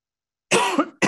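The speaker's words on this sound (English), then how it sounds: "This is really terrible that I have this cough that has shown up halfway through." A speaker coughs during a talk on nuclear power: one harsh, close cough after a silent start, followed by the beginning of another at the very end.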